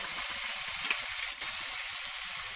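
Spices sizzle and fry steadily in a hot pan of oil for a Bengali chickpea, potato and paneer curry, a continuous bright hiss with small crackles and one brief dip in the noise.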